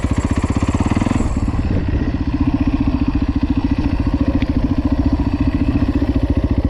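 A 2010 Husaberg FX450 dirt bike engine thumps along at a steady, low-revving chug while riding through tight woods, loud and close, with a brief throttle blip early on.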